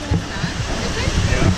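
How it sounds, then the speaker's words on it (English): Waves surge and crash at a water park, a dense continuous rush of splashing water close by, loud throughout the short moment. "A whole lot of waves coming."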